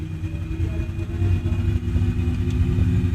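Boeing 737-NG jet engines in a flight simulator spooling up toward 40% power, a steady low rumbling roar with a faint high whine, building slightly and continuing throughout without talk.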